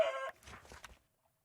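A Minecraft chicken gives a short clucking call up close, followed by a few faint rustles and small sounds before falling silent.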